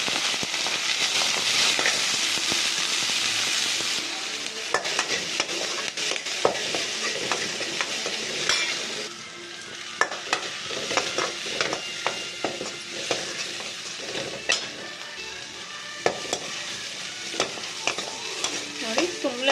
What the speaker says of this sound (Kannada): ಇವಾಗ ಇವೆಲ್ಲ ಹಾಕಿ ಒಂದ್ಸಲಿ ಫ್ರೈ ಮಾಡೋಣ